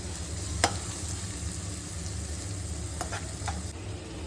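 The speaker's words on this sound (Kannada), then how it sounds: "ಹಾಕ್ಕೊಂಡು ಸ್ವಲ್ಪ ರೋಸ್ಟ್ ಮಾಡಬೇಕು, ಫ್ರೈ ಮಾಡಬೇಕು" Finely chopped onions for gobi manchurian roast and fry in a pan with a steady, close sizzle, broken by a few sharp utensil scrapes and taps from stirring.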